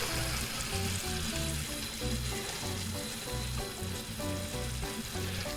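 Caramel bubbles and hisses in a pan while cooking for a stroopwafel cake, a dense steady sizzle with a low, rhythmic tonal backdrop underneath.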